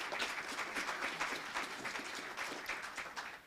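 A conference audience at a college and career summit gives a round of applause, dense steady clapping from many hands throughout, moderately loud and sustained.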